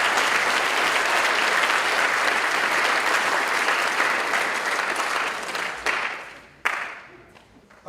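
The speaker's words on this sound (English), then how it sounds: "One more round of applause for those who" A school hall of fame induction audience applauds in one sustained, dense round of clapping that fills the room, then thins out and trails off into a few scattered claps near the end.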